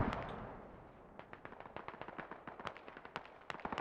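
Enemy mortar and gun fire in Squad, a faint distant rumble opening into a quick scatter of sharp cracks and thumps, irregular and far off, with no voices.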